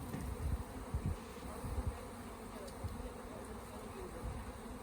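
A swarm of honey bees being caught in Enterprise, Alabama makes a steady, close buzzing hum. Low thumps of handling and faint background voices come through underneath.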